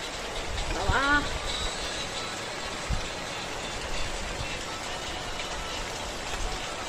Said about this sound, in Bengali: এইভাবে বৃষ্টি হলে কি করে হবে বলো